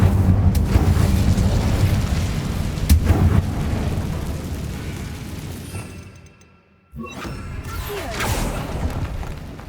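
Incendio fire spell cast in the video game Hogwarts Legacy, a loud roaring burst of flame and whooshing that fills most of the clip, dropping briefly to near silence before a second rush of fire.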